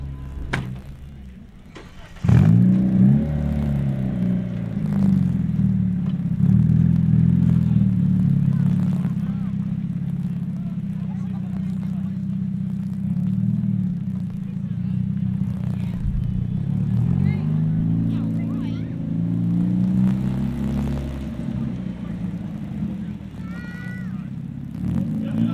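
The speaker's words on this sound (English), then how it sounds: "we'll bring them in one at a time, have them go over the ramps" Stunt cars at a 1996 Hell Drivers motor show in Bridgwater revving and driving over ramps, engines roaring loudly with rising and falling pitch as crowd chatter and an announcer's voice carry over the top.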